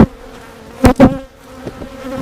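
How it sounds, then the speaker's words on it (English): Honeybees buzz inside a swarm trap, a thin steady drone close by that swells into two louder, harsher bursts of buzzing near the middle before settling back to a quieter hum. "let's see, there's a few bees in there."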